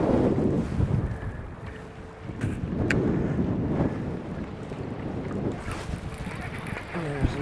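Strong wind gusts across a lake from an open boat, roaring in uneven waves against the microphone with water lapping beneath; loud and close, with no talking.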